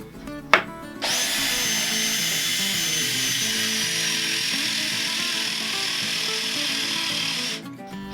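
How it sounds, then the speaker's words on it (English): A handheld electric drill boring a hinge hole whirs loudly and steadily for several seconds, starting after a brief click and stopping abruptly near the end. "We are drilling by hand with an electric drill."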